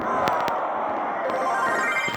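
A phone rings in short electronic bursts over a busy background of indoor noise, with a few sharp tonal beeps standing out.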